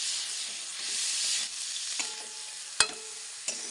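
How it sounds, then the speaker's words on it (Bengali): Potatoes fry in a pan with a loud, dense sizzle while a spoon stirs them, giving a few scraping strokes and distinct metallic taps against the pan, with no speech. "নেড়ে দিচ্ছি। আলু দিয়ে দিয়েছি।"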